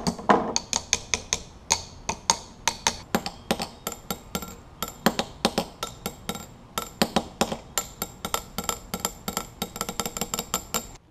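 Repeated sharp metallic taps on a Honda CL175 motorcycle starter motor, struck in quick irregular bursts of clinking hits across the whole stretch, close and fairly loud with no talking.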